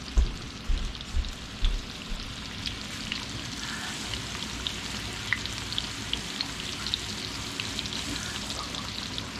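Cornmeal-coated catfish pieces seasoned with salt and pepper fry in a pan, a dense, steady sizzle and crackle close up, with a few thumps as pieces are set in at the start.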